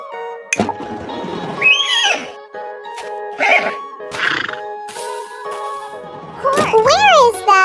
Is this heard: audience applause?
no